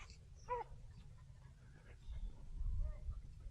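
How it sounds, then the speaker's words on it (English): Small dogs and puppies crowd close, giving a few high whimpers and yips over a low rumble of handling noise and movement, with no clear speech. "I'm being mobbed by these bloody dogs."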